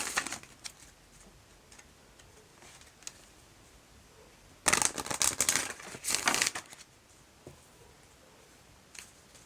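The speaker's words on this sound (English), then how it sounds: "I'm going to shuffle the Romance Angels Oracle deck and close up the reading" Oracle cards from a Romance Angels deck are shuffled in two brief bursts of crisp riffling and flicking, with a few faint ticks and taps in an otherwise quiet room and no talking.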